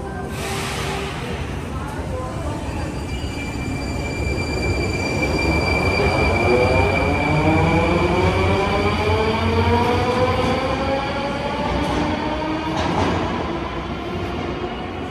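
A Moscow metro train runs through the Park Pobedy underground station platform, about 84 metres below ground. It gives a loud, continuous rumble, and long metallic wheel squeals rise and fall as it passes close by.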